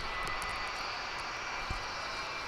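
Jet engine whine from an arriving Boeing 757 at DFW International Airport: a steady, broad, distant roar with a high whine layered on top, holding constant for a couple of seconds.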